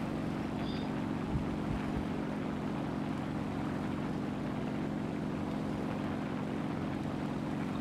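The propeller engine of an Fw-190A-5 fighter in the game War Thunder drones at a steady, even pitch throughout during formation flight, with no talk over it.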